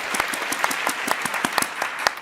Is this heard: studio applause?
yes